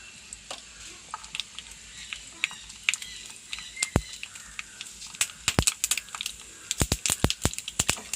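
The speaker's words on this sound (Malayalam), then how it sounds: "എണ്ണ ചൂടായി കടുക് കൊടുക്കണം" Mustard seeds sputter in hot oil for a sambar tempering, a string of sharp crackling pops that grows denser and louder toward the end over a faint background hiss.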